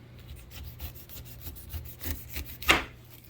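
A knife trims the skin off a pineapple with a quiet, steady series of scraping, rasping strokes, ending in one slightly louder cut, close by and without talk.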